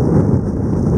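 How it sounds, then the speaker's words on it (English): A rough storm at McMurdo Station, Antarctica, delivers a loud, deep rumbling roar of thunder and heavy wind buffeting the microphone, a dense continuous low noise with no voices. "this is the rougher storms we get down here."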